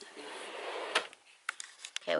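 Drawers opened and closed during household organizing, with a few short, sharp knocks and slides near the end after a stretch of steady background noise and some speech.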